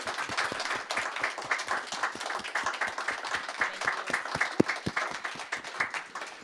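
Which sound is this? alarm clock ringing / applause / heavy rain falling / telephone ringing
applause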